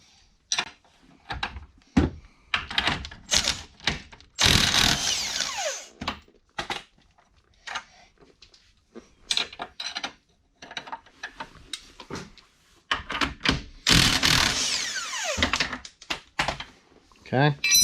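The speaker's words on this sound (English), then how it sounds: "now we're going to remove the two lower strut bolts here" Lower strut bolts being removed during a BC coilover install, heard as bursts of ratcheting and tool clatter with scrapes and clanks, broken by short pauses.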